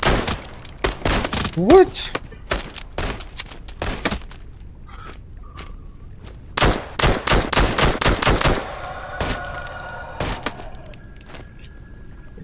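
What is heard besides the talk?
gunfire in Into The Radius 2 video game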